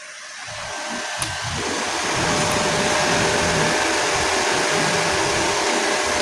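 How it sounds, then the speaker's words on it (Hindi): An electric fan runs steadily indoors in a home, a broad, even whooshing hum that swells slightly during the first couple of seconds and then holds at a constant level, with no voices. "पंखा चल रहा है"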